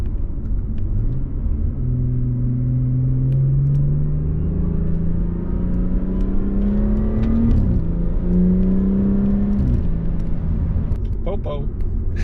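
A BMW F30 340i with its stock exhaust pulls through the gears while driving, giving a loud, close engine drone that rises in pitch with each gear and drops at the shifts, with a few crackling burbles near the end.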